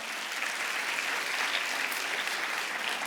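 Audience applause fills a church during a service after a call to welcome someone being baptized, a steady, even wash of clapping at moderate distance that holds for about three seconds.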